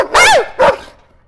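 A dog gives two sharp barks in quick succession, close and loud, with a short fading tail afterward and no talking.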